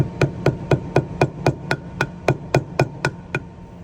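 Sharp hammer strikes on a metal governor clip of a Predator 670 engine, about a dozen evenly spaced blows in quick steady rhythm, close and clear with no talking.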